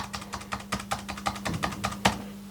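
A computer keyboard typed on in a steady run of close, crisp key clicks, about a dozen quick presses in a row with one louder clack near the end, alone with a faint steady hum beneath.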